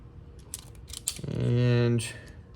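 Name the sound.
crimping a terminal fitting onto 8-gauge wire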